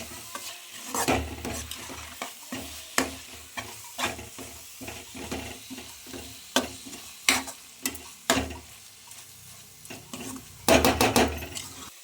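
A spoon stirs a sweet made from colostrum milk cooking in ghee in a pan, producing repeated irregular scraping knocks against the metal over a soft sizzle, with a brisk flurry of stirring near the end.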